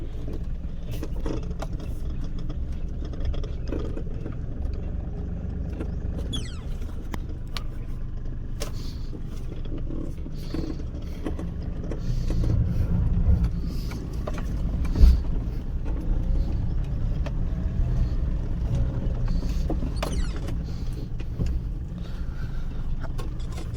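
A Mahindra Bolero being driven, its engine and road rumble a steady low drone throughout, with a brief louder knock or bump partway through and no talking.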